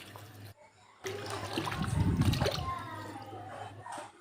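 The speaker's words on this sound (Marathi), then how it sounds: "पाणी थोडंसं गरम झालं की थंड पाण्यातून मस्त फणस धुवून घ्यायचं" Jackfruit being rinsed in cold water while cooking at home, with splashing and trickling water under a steady background hum, nearby and moderately loud, swelling mid-clip.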